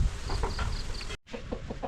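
Chickens clucking at close range at a rural Thai-Lao farm during the end of the rice season, a series of short clucks and calls over rustling background, briefly cut then resuming.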